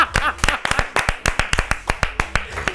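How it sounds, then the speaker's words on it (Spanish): A small studio audience claps to welcome a guest on a comedy talk show, sharp distinct handclaps in a brisk uneven rhythm, close and fairly sparse rather than a full roar. "¡Aplauso!"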